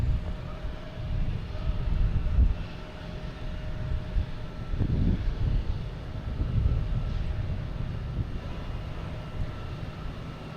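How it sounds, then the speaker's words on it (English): A Southwest Boeing 737-800 lands at Boston Logan airport, heard as a distant, swelling low jet rumble mixed with outdoor wind buffeting the microphone. "we have Southwest coming in from Baltimore. 737-800."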